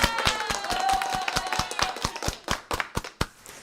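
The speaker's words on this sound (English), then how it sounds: "let's give a round of applause to the Final Cut Pro team" Scattered clapping from a few hands, crisp individual claps in an uneven rhythm that start fairly dense and thin out to sparse, separate claps, close and moderately loud with no talk.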